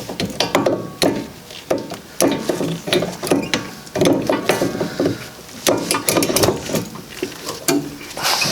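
A torque wrench set to 55 foot-pounds works a rear brake caliper bolt on a Honda Civic, giving repeated close ratcheting clicks in irregular bursts with metallic knocks between them and no talking.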